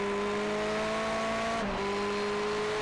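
Ferrari 488 race car in a sim racing game at Donington Park, its engine a steady onboard drone with sustained harmonics, holding a constant note before a brief dip and pitch drop around a gear change, then settling back to a steady hum.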